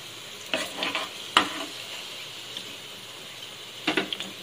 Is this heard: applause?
no